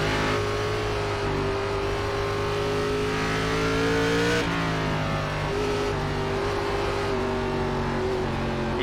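Stock car engine in the iRacing sim, an ARCA Series car on the Charlotte Roval, droning loudly and steadily at high revs, pitch climbing and then briefly dipping during a gear change before climbing again.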